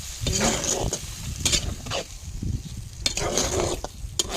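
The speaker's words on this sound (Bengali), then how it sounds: "একটু ভালো করে নেড়ে দাও, নেড়ে দিলেই হয়ে যাবে" Poppy seed paste and okra stirred in a pan, a spoon scraping and clinking against the pan over a constant sizzle, close and fairly loud.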